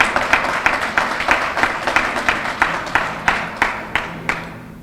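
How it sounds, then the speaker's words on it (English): Audience applause at a legal education event, sounding as a steady wash of many hands clapping at moderate volume, with rhythmic peaks from a few louder clappers throughout. "we should all give him a round of applause"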